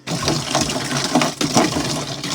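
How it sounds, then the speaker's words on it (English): Warm water pouring into a tall bucket, a continuous splashing, gurgling fill that runs loud and close for a couple of seconds. "and then fill it with warm water."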